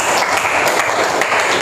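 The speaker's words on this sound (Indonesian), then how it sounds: "Tepuk tangan dulu buat teman-teman kita." Classmates in a school lesson break into a dense, steady burst of applause. The clapping is loud and close and fills the moment without pause.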